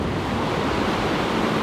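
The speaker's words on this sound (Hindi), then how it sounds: "अब लग रही हैं यार ये लहरें।" Steady, dense roar of ocean surf breaking at Sinquerim Beach in Goa, a continuous wash of waves with wind rushing over the microphone, no pauses or voices.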